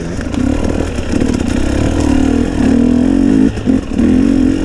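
Loud, close engine of a new 2021 GasGas 250 EC dirt bike buzzing and revving, with a short drop in throttle before it picks up again.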